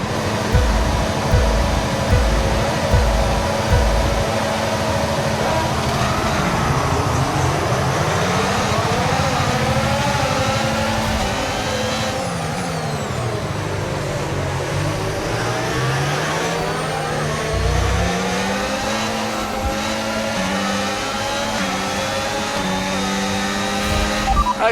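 Formula 1 car engine in the racing game F1 25 starting up and revving, a loud, sustained mechanical roar with rising and falling pitch sweeps over nearly half a minute, close and continuous.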